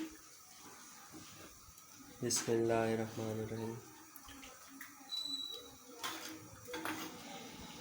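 Lukewarm water pours into a pot of chicken feet with a soft, close splashing trickle, while a voice speaks briefly over the pouring.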